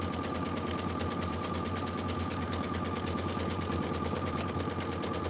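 Sewing machine stitching a quilt block for a Kimberbell Enchanted Winter filler block, running in a steady, fast mechanical rhythm with a constant hum, close and continuous throughout.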